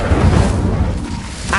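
The Incendio fire spell is cast in the Hogwarts Legacy video game, giving a brief, loud, rumbling burst of fiery noise that fills the short moment.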